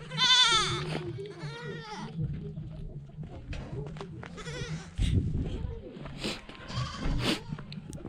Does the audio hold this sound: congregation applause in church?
no